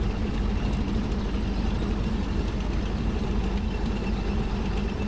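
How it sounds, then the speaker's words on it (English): A Sherman tank engine in the game Brothers in Arms: Hell's Highway drones at a steady, loud, low rumble without a break. "it gave me a Sherman tank"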